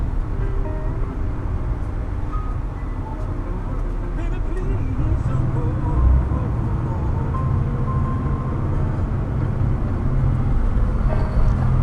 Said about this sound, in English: Diesel motor sounds really good.